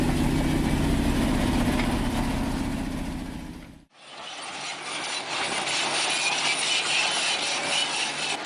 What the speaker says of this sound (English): The man is driving the D11 with the dust underneath.